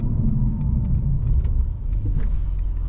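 A 2018 Mercedes-Benz C43 AMG V6 engine in Sport Plus mode rumbles low and steady from inside the cabin, a deep continuous drone with faint ticks and road noise layered over it.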